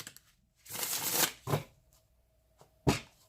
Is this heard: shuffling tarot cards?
yes